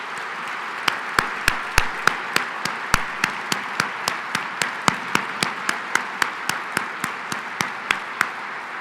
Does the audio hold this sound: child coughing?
no